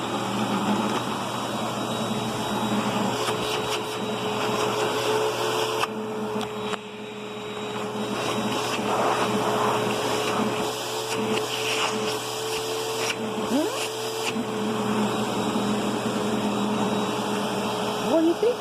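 A Eureka Ultra Whirlwind vacuum cleaner runs continuously with a steady motor whine and airflow roar, briefly dipping and shifting as it moves, while a person talks over it and a puppy is nearby.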